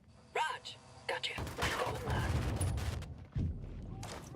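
Gunfire in Ghost Recon Breakpoint, heard as bursts of shots and heavy booms that build into a sustained fusillade, with a voice calling out over the shooting.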